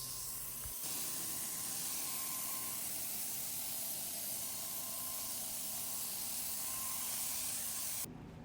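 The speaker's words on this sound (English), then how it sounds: "I'm going to apply my third and probably final coat using my sprayer" A paint sprayer lays a final coat on a vintage dresser, a loud continuous airy hiss that starts abruptly, holds steady for about seven seconds, then cuts off.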